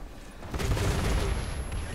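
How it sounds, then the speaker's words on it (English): Gunfire and explosions in the War Thunder tank game, a faint opening followed by a loud, rumbling burst of heavy shots and booms that sustains and slowly fades. "He's behind you, shooting you from the back, right behind you."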